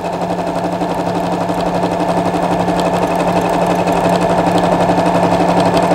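A sewing machine runs loud and close without pause, its rapid even chatter stitching a dense buttonhole-style stitch through heavy suit fabric with interfacing.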